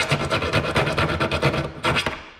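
A hand file rasps back and forth inside a freshly drilled hole for a rear LED light on a bus. About eight close, brisk strokes come in a steady rhythm, a short pause, then one more stroke.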